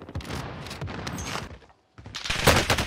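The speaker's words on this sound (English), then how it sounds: "Oh my god, I'm getting shot at from the field." Video game gunfire in Call of Duty Warzone, dense rapid bursts of shots that break off briefly into near silence, then resume louder.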